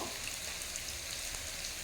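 Paneer frying in ghee in a pan, a soft, steady sizzle and crackle heard alone at low volume.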